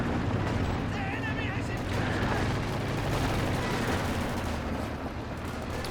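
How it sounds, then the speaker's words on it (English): Cluster bombs pounding a base in the World War II strategy game Company of Heroes 2, a steady, dense rumble of distant explosions and crackling fire under continuous commentary. "Axis cowering in their base at the moment, getting pushed all the way back by those cluster bombs"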